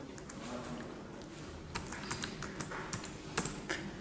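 A name is typed on a computer keyboard in MS Word, a scatter of light, quick key taps over a steady background hiss.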